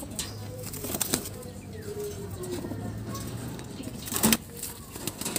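A tippler pigeon gives low, soft coos close by, with wing flaps and a brief flutter, while a person talks in the background.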